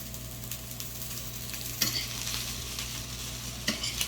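Fried rice with bacon and vegetables sizzles softly in a pan while being stirred and flipped, with occasional scraping clicks of the utensil over a quiet, steady frying hiss.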